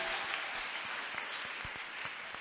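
A church congregation gives a sustained round of applause, fairly faint and distant, with scattered louder claps standing out over the dense clapping.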